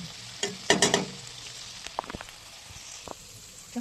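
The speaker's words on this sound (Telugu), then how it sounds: "ఇంకా ఎక్కువ ఫ్రై చేసుకోవచ్చు బ్రౌన్ కలర్ వచ్చే వరకు" Paneer tikka frying in a little ghee in a pan gives a soft, steady sizzle, broken by a few louder spatters and stirring clicks near the start.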